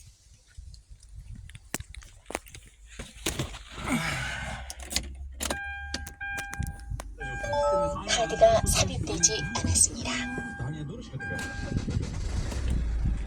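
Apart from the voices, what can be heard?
Hyundai Santa Fe 2010 car engine starting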